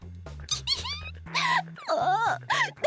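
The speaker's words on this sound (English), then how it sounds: "I could hear Paradox howling from outside the room." Paradox, a video game character, howls and squeals in rising, wavering cries, several short bursts over a low droning game music bed, with no talk.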